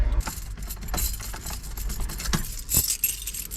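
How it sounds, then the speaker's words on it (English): A pile of keys, some of them Ford keys, jangles and clinks continuously in the hand, close and fairly loud, with a few sharper metallic rattles toward the end and no talk. "And I got this pile of keys."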